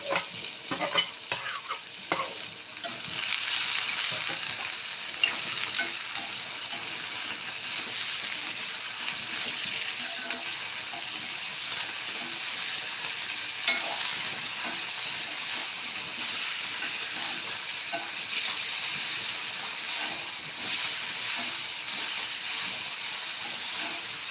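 Pieces of snake gourd fry in a hot pan and are stirred, producing a constant close sizzle and steamy hiss, with a few scraping stirs at the start and occasional light clatters throughout.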